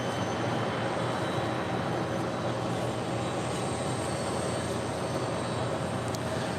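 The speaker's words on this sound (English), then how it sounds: "That is Delta Airlines Flight 1425 coming in from Tampa, Florida, and a 737-900 ER." A Delta Airlines Boeing 737-900ER arriving from Tampa at LAX produces a steady, broad jet roar with a faint high whine, constant in level at moderate distance, with no talk.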